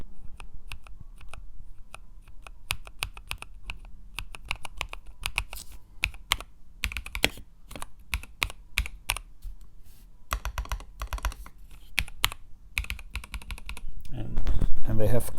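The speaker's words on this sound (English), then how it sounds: "If you press the keys," Keys on a LOFREE BLOCK 98 retro-style keyboard, mic held close, are pressed in a steady run of soft, slightly mushy clacks, some in quick bursts, with a louder thump near the end.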